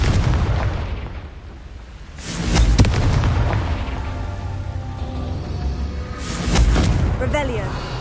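The Confringo spell in Hogwarts Legacy lets off two heavy explosive booms, one near the start and one later, each a rumbling burst that fades into a sustained roar.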